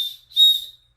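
An ultralight trail running safety whistle gives two short, shrill blasts close up, the second one longer and louder.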